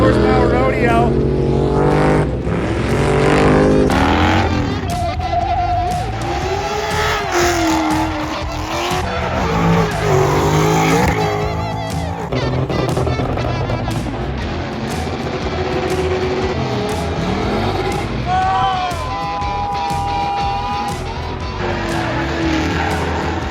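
Cars at a horsepower rodeo event rev their engines hard, with rising and falling engine howls and tire squeal, loud and continuous under people talking close by.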